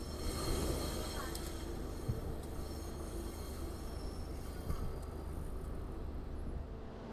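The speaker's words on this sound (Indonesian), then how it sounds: "Untuk lokomotif saat ini lagi dilangsir menuju ke turntable atau meja pemutar" A locomotive is shunted toward the turntable at Bangil station, giving a steady, dense rail rumble with faint metallic clanks and occasional squeals throughout.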